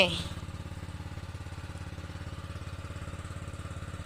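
A water pump engine drains a fish pond, chugging in a fast, even putter that stays steady and moderately close after a brief louder start, with no other sounds over it.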